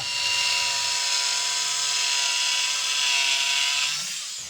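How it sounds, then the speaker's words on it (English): A power saw whines through wood in a single continuous cut of a few seconds, loud and close, as the wood is cut on a table saw and finished with a jigsaw for a lawn chair. "so I need to cut in part of the way on the table saw. And then I'll finish that with the jigsaw."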